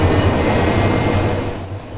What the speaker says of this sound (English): Get to the chopper.